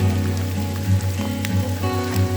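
Monsoon rain falls during a toy train ride at Matheran, a steady patter of drops laid over a constant low rumble from the moving train, with no voices.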